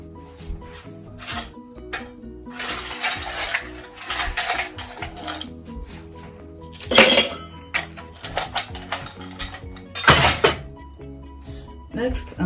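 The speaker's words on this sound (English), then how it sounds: "I'm going to go in with some ice" Ice cubes tumbling and clinking into a cocktail shaker for a tropical ale mocktail, with a run of sharp glassy clinks and rattles, some louder bursts, heard close under a speaking voice.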